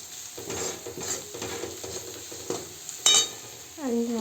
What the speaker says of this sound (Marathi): 2 चमचाभर धनाजिराची पूड घालते मी आणि छान मिक्स करून घेऊया आपण ह्याला